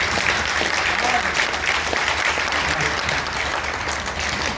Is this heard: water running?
no